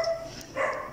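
A dog barks in the background, two short faint yips at the start and near the middle, distant and low in level with no talk over them.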